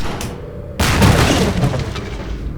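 A loud frag grenade blast in the Garry's Mod game, erupting suddenly into a heavy roaring boom that rumbles and decays over about two seconds.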